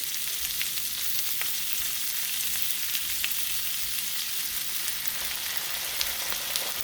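Oyster sauce sizzles in a frying pan with gai lan and assorted fish balls, a continuous bright crackle and spatter heard up close, with occasional stirring clicks and no voices.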